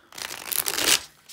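A deck of Lili White tarot cards is shuffled by hand: a close, crisp riffle of flapping card edges lasting about a second, alone with no talk.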